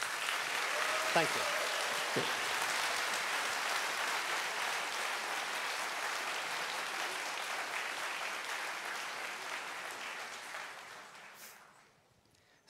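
Steady audience applause fills a convention hall stage at the Eurofurence 28 opening ceremony, loud and dense for about eleven seconds before fading out, with a brief spoken thanks near the start.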